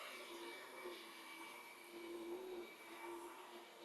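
A UWANT V500 stick vacuum cleaner runs on boost mode, giving a steady, fairly faint high whine with a low motor hum underneath and no speech.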